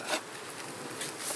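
Honey bees from an aggressive, nasty-tempered colony buzz around an open hive, a soft, diffuse hum that swells faintly in a couple of short surges over a little more than a second.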